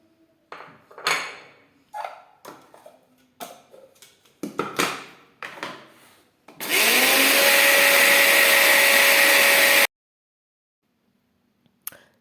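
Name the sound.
electric grinder grinding juniper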